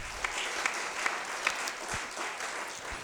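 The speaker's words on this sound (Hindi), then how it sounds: "एक बार जरा ताली बजाइए आप सब मिलकर।" At a Hindi poetry reading, an audience claps together in a steady, moderate round of applause, with a few sharper individual claps standing out near the start.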